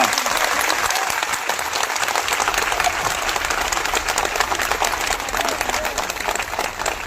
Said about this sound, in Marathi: जरा एकदा दोन हातांचा टाळ्या तर वाजून दाखवा